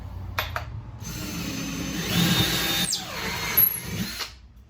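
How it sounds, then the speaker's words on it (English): A power drill whirs steadily as it bores through a wood cleat and into drywall, rising in pitch briefly before winding down near the end. "we're gonna drill through the cleat, through the drywall"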